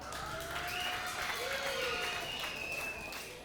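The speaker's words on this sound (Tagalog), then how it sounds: "bigyan natin ng Lord ng malakas na palakpak" A church congregation applauds with a steady wash of clapping, joined by tonal whistles or cheering voices rising over it.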